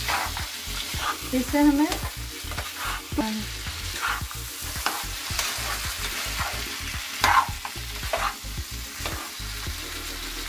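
Chana masala ingredients, including potatoes, fry in a pan on a medium flame, sizzling steadily while a spoon stirs and scrapes in quick repeated strokes close by, with a few brief spoken words.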